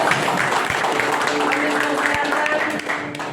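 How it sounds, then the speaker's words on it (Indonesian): A church congregation applauds during a Sunday service, a dense, steady patter of many hands clapping in a large room, with a voice speaking over it. "beri tepuk buat Tuhan Yesus"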